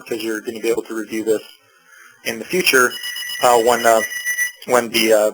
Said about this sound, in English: sorry about that phone in the background.